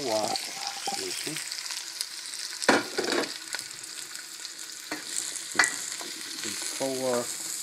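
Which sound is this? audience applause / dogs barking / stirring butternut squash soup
stirring butternut squash soup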